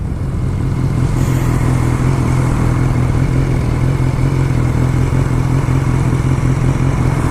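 A loud motorcycle engine runs steadily and close by, its deep rumble holding throughout with a faint rattle.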